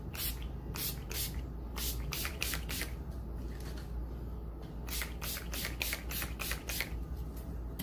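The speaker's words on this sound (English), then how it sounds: "Douse the face in the setting spray" Repeated short hissing bursts of a makeup setting spray bottle sprayed onto the face, a dozen or so quick pumps in irregular clusters, close and fairly loud over a low steady hum.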